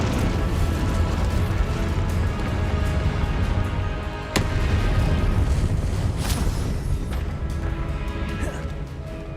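Incendio fire spell cast in Hogwarts Legacy, a dense, roaring burst of game effects filling the whole stretch, with a sharp crack near the middle and another flare of sizzling impact shortly after, loud and continuous.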